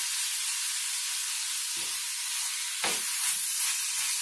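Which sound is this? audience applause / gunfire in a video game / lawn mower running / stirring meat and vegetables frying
stirring meat and vegetables frying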